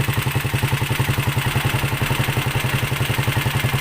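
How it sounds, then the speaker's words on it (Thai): A small engine, reassembled from separate parts and fitted to a newly built cart frame, idles on its first start with a close, steady, rapid chugging pulse and faint clatter, running evenly throughout without voices. "โอเคผมก็เดินเบา เครื่องไว้สักพักหนึ่งแล้วนะครับ นี่นะครับ เครื่อง เดินเบาได้นะครับ"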